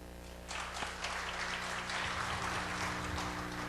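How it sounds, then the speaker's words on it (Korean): A church congregation at a fathers' prayer meeting in Korea breaks into applause to welcome a guest professor. The clapping starts after a short pause and stays even and fairly soft throughout. "우리 큰 박수로 환영해 주시길 바랍니다"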